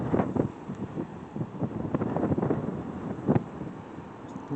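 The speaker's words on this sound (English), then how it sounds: "It's windy here." Wind buffets the microphone on the Pacific coast at Gold Beach, Oregon, a gusty, rumbling roar rising and falling in bursts throughout, fairly loud and close with no speech.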